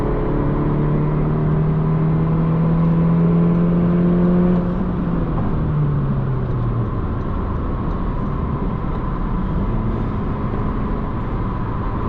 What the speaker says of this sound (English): I'm getting on the highway now, and I'm in 4th gear